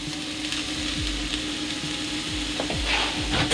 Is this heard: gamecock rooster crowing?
no